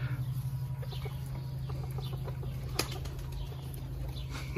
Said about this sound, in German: Die kleinste Hühnerrasse der Welt. Serama